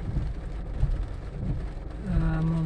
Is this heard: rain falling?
yes